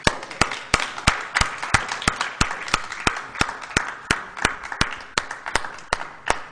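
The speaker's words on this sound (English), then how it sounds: "And let's give one more round of applause to Mr. Bill Thornton." A small crowd at an evening lecture forum claps in sparse, distinct individual beats, each clap sharp and separate, with the scattered rhythm of a thin audience closing out a talk.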